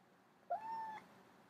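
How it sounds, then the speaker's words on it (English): A cat gives a single short meow, faint and fairly close, against a quiet room hiss. "What are you meowing at?"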